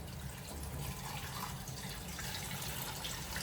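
Water poured into a stock pot for hot and sour soup, a steady, continuous rushing and splashing stream heard close up with no talking.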